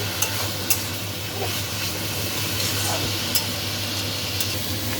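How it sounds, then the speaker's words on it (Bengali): Momo filling with ketchup and sugar being stir-fried in a pan: a steady, close sizzle with occasional sharp clicks of the spatula against the pan, continuous throughout, no talk. "এবার সব কিছু আপনাকে একটু কষে নিতে হবে ভালো করে।"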